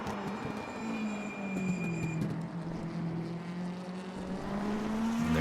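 A sim race car in a video game brakes hard into the last turn before the pit lane entrance. Its engine tone drops steadily, then climbs again as it accelerates out, heard fairly close with a faint background hum.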